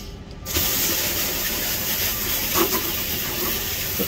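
RT375A Viper aerosol chemical cleaner is sprayed onto an evaporator coil, starting abruptly as a steady, close hiss that continues for several seconds with slight fluctuations and no talking.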